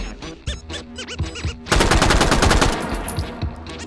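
A World War II submachine gun fires in the VR shooter H3VR: a single shot, a few spaced shots, then a steady sustained automatic burst, loud and close, with no talking.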